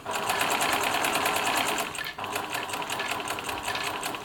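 A Bernina Nova 900 electronic sewing machine stitching a buttonhole, a fast steady motor whir with rapid needle ticks running throughout and a brief dip near the middle.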